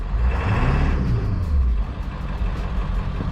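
A 7.3 diesel engine in a service truck idles and revs close by, a steady low rumble that rises briefly then settles back to a loud even throb.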